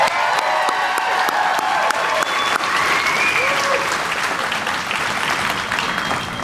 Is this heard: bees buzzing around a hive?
no